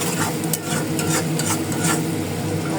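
Onions fry and are stirred in a pan for hilsa fish curry, a steady close sizzle broken by repeated quick scraping strokes of a spoon, with no talking.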